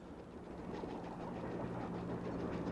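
Moving train in the video game Nancy Drew: Last Train to Blue Moon Canyon, a soft, continuous rumble of rolling railcars with faint rhythmic clatter, quiet and steady throughout.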